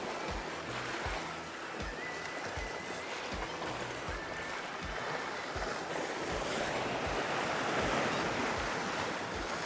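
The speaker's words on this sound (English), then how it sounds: "waves are starting to splash a bit up on the right-hand side" Sea waves wash and splash against the rocky shore at St Abbs, a continuous loud roar of surf with heavy wind buffeting and low thumping throughout.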